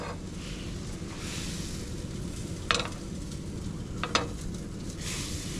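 Barramundi fillets fry in a pan with a steady, moderate sizzle throughout, broken by a few sharp clicks and scrapes from the pan.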